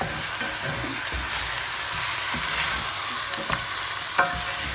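Rechta sauce with cinnamon stick and ground cinnamon is stirred in a pot, a close, steady sizzle and bubbling with scattered scrapes and clinks of the spoon against the pot, no voices.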